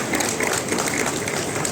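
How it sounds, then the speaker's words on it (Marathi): Brief, steady applause from a group at a women's association meeting, greeting Archana Vinerkar's election as secretary, with dense clapping filling the whole moment. "टाळ्या"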